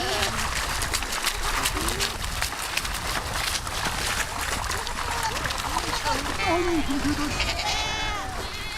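Sheep and goats bleat over and over, close and loud, as a herd of nomads' livestock struggles and slips while crossing a river in the Mongolian taiga, with splashing and a narrator's voice running underneath.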